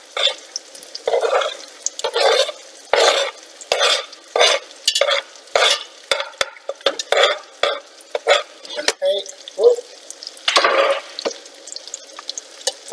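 Celery and onions sauté in melted butter and bacon fat for Canadian cheddar cheese soup. Close, rhythmic stirring scrapes come in repeated bursts over a soft sizzle, with short pauses between strokes.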